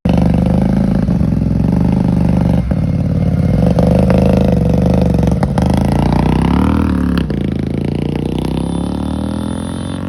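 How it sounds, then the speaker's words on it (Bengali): A two-cylinder superbike at a second-hand bike market runs loud and close, a steady throbbing engine note with revs rising and falling, then settling toward idle at the end. "আর এখান থেকে আমি নিচ্ছি সুপার বাইক একটা, যেটা হতে চলেছে 2 সিলিন্ডার। Sound check."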